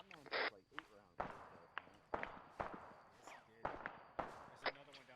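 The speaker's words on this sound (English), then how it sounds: "Reference incoming fire." Incoming gunfire in the Arma military game, sharp cracks and thumps arriving at irregular intervals, some close and loud, others farther off, with radio-style voices talking over much of it.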